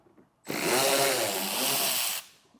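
A cordless power tool backs out Torx T15 screws from the rear fender well of a 2024 Cadillac XT4. It gives one steady, loud whirring burst of about two seconds, close by, with no talking.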